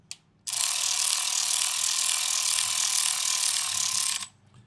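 A ratchet wrench from a gear set runs bolts down, giving a steady, continuous fast clicking for about four seconds, close and loud, then stopping abruptly.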